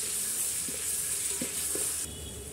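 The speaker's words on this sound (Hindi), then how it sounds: "अदरक लहसुन हमारा बहुत अच्छे से भून गया है" Ginger garlic paste sizzles steadily in a pan while being fried for chicken biryani, a continuous bright hiss with a few soft stirring knocks, dropping slightly in level near the end.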